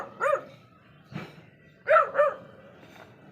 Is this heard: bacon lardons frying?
no